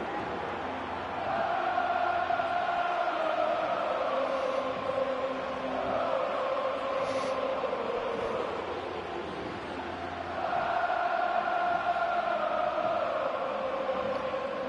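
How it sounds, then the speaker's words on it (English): A large stadium crowd in a Madden 25 football video game chants in rhythmic waves that swell and fade after a touchdown, a broad roar continuing throughout. "you can hear the chant from the crowd when they scored another touchdown against the Bears"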